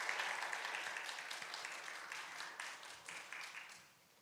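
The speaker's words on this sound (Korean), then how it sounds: "박수로 맞아주시기 바랍니다" A church congregation gives warm applause to welcome a speaker, a steady dense clapping that gradually fades away near the end.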